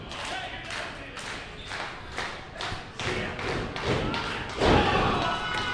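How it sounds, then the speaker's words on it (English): At an international fight night, a wrestler's body slam lands on the ring mat. A series of dull thuds sounds over a crowd, followed by one heavier impact near the end, while commentary continues. "And there's a body slam."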